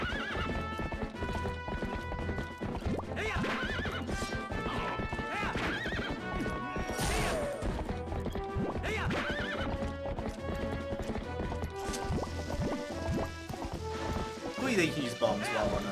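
Galloping horse hooves clip-clop with occasional neighs in the Zelda Twilight Princess video game, running steadily under dense game music and effects, with a player talking over parts of it.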